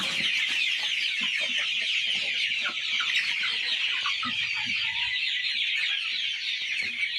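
Free-range village chickens cluck softly and intermittently while being weighed, close by, over a constant high-pitched hiss of background insects or ambience.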